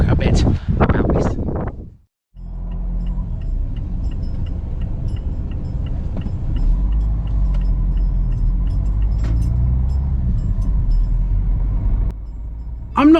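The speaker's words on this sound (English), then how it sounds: "we're going to drive into Barton Mills" Car driving along a road into Barton Mills, Suffolk, a steady low engine and tyre rumble with road noise and small rattles heard from inside the vehicle; a voice talks briefly at the start before the drive sound continues alone.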